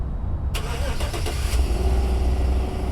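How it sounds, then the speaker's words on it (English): A car engine starts some distance away, with a short cranking burst that settles into a steady, rumbling idle over a constant background hum. "Oh, that guy just started his car from like 50 yards away."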